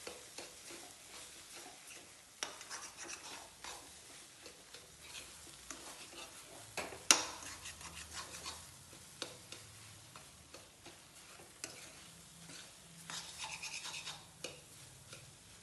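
Soft, quiet scraping and stirring of cauliflower pieces being tossed with chili powder and turmeric in a bowl, with faint irregular clicks and one sharper tap, no talking.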